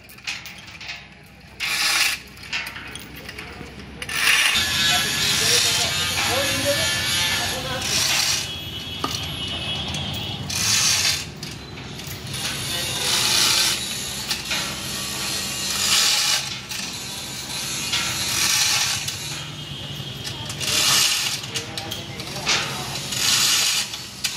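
A chain pulley hoist ratchets a sawmill machine up onto a truck, giving bursts of repeated metallic clicking and clanking that stop and start, with mechanical rattles between them and voices at times.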